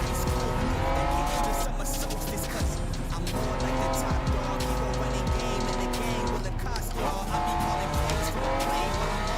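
Honda NSX race car in Gran Turismo 7, its engine revving steadily and loud throughout, with rising and falling gear pitches and bursts of tire squeal, a voice talking over it.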